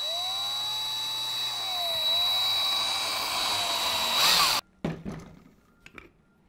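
A power drill runs steadily for about four seconds boring into a Jacobs chuck in a workshop, its pitch sagging briefly under load, then stops abruptly and is followed by a few clattering knocks.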